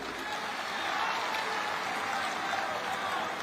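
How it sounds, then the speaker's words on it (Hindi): A crowd at a public government event in Chhattisgarh claps in a dense, continuous burst of applause that stays level throughout, close and fairly loud. "एक लिए आपन सब एक बार ताली बजावा"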